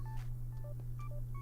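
A phone gives off a quick run of short electronic beeps, several brief tones in a row over a steady low hum, fairly faint.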